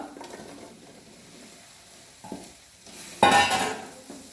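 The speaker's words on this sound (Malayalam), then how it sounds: "ഇനി നമുക്ക് ഈ അമ്പഴങ്ങ ഇതിലേക്ക് ഇട്ട് കൊടുക്കാം" Hog plums tumble into a pan for a chilli pickle and get stirred, a brief burst of sizzling and scraping near the end after quieter stirring and light clatter; no one speaks.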